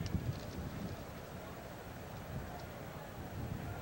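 Steady, broad wind rush, gusting to 30 mph, buffeting an outdoor microphone at the Orange Bowl stadium during a 1985 NFL game, with low rumbling gusts swelling and easing throughout.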